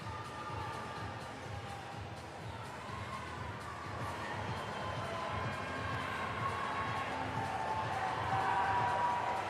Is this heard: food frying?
no